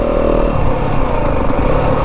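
A Yamaha WR 250F dirt bike engine revving hard and steady, loud and close, a sustained high-pitched buzzing drone with a slight shift partway through.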